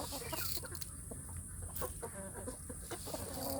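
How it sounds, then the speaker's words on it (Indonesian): Young free-range village chickens cluck and peep softly in a cage, a busy scatter of short calls overlapping one another at low volume. "Ini anak ayam kampung yang lain belum saya lepas umbarkan, masih ada di kandang."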